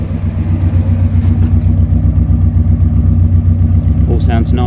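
A Morris Minor engine runs smoothly and evenly with no misfiring, a steady close-up mechanical drone holding throughout at a constant level, with a brief higher sound near the end.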